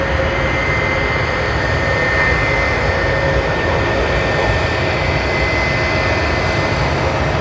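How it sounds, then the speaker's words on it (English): An Emirates airliner departing Sydney Airport holds a loud, continuous jet engine roar that stays level for several seconds, with no voices over it. "this is the Emirates departing"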